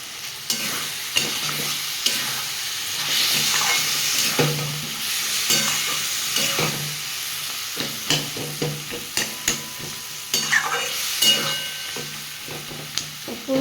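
Dried red chillies fry in hot oil in a pan for a sweet-sour-spicy Indian plum (kul) chutney, giving a steady close sizzle broken by repeated clicks and knocks of a stirring spoon against the pan.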